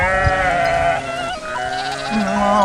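Several lambs bleat in overlapping, wavering cries, close by and fairly loud, with no talking, on a highland pasture near Ilıca, Darende, Malatya.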